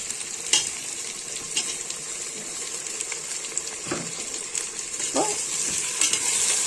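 Tomatoes, onions and chilies sautéing in a pan for egg biryani, a steady close sizzle with occasional spatula scrapes and light clinks, no voices over it.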